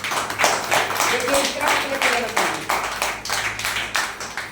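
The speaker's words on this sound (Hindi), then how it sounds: "उन लोगों के लिए जोरदार क्लैपिंग होना चाहिए।" An audience at a team gathering in Bokaro claps loudly in repeated bursts of rhythmic applause, close and energetic, with a speaker's voice mixed in.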